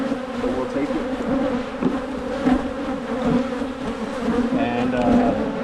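Honeybees buzz densely and continuously around an open hive frame during an early spring colony inspection, with a close, loud, wavering drone and a few higher whines from passing bees.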